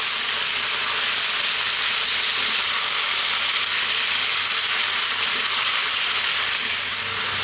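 Beef pieces fry in a hot pan for a curry, giving a loud, steady, dense sizzle and hiss that carries on without a break, with no talking over it.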